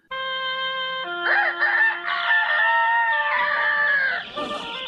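A cartoon rooster from The Flintstones crows at sunrise in one long, loud, bright call that rises and then trails off, heard alone with no speech.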